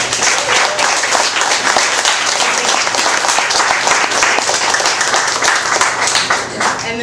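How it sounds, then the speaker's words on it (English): Sustained audience applause at an author event, a dense, loud wash of many hands clapping together at a steady level throughout, with no speech standing out. "give yourselves a round of applause for that"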